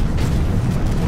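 A grenade detonates in the Warhammer 40,000: Space Marine game: a dense, sustained low rumbling roar lasting about a second, loud and steady, with no distinct sharp onset.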